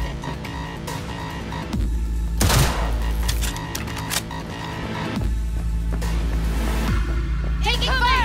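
Sustained gunfire in a Cyberpunk 2077 firefight, steady bursts of shots layered under a low rumbling game soundtrack and a loud sharp report near the middle, with a voice briefly shouting.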